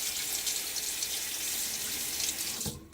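Tap water runs steadily into a sink to rinse an ATT aluminum safety razor holding a Feather blade, a continuous close hiss that stops abruptly at the end.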